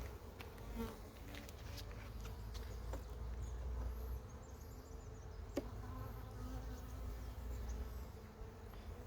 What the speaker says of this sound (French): Encore 3-4 faux bourdons qui se promènent.